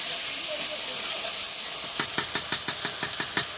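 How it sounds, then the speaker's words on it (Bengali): Goat mutton frying with spices in a pan: a soft steady sizzle, then a quick run of about eight evenly spaced spatula scrapes and stirs close by. "ভালো করে ভাজতে হবে মাংসটা মশলা দিয়ে"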